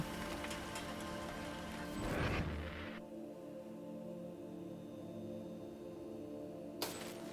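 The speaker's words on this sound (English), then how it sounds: "That's the acid rain for you." Patter of acid rain in the video game Homeseek, with a brief crashing burst early on, then quieter steady rainfall and a sharp click near the end.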